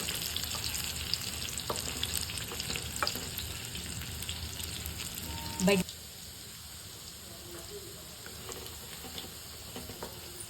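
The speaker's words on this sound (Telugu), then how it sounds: "చాలా క్రిస్పీగా ఫ్రై అవుతున్నాయి." Soya chunks deep frying in hot oil for a crisp second fry, a steady dense sizzle and bubbling that runs throughout, with a brief louder clatter midway before the frying settles a little quieter.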